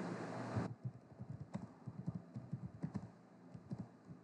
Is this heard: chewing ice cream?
no